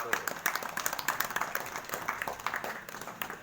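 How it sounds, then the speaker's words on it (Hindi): Audience clapping for a school principal at a religious gathering led by a saint, a steady patter of many hands at moderate distance, with a voice speaking over it. "प्रिंसिपल साहब खड़े हो जाएं, जोरदार ताली बजा दो"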